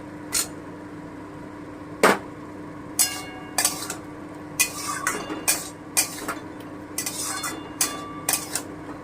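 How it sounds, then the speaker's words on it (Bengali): Pointed gourd (potol) goes into a pan and is stirred, giving irregular sharp clinks and scrapes of a spatula against metal, a dozen or so spaced knocks over a faint low hum, close by, with no talk. "এবারে আমি পটলটা দিয়ে দিচ্ছি"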